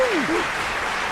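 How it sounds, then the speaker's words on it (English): Canned applause at a podcast intro, a brief wash of steady clapping that hangs evenly at moderate level, with a short vocal swoop at the very start. "the clapping sounds canned"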